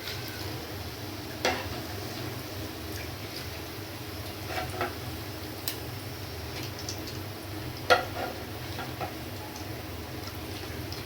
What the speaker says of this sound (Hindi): देखिए ऐसे ही सारों को फ्राई कर लेंगे